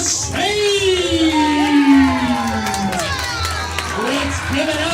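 A crowd cheers and whoops as players are brought onto the stage at a live event, with shouts and a long rising-and-falling voice over steady crowd noise, loud and close throughout.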